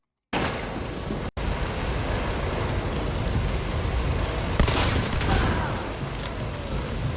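Shotgun fire in a multiplayer shooter video game rattles in a dense, continuous barrage, with a brief dropout near the start and sharper blasts cutting through later.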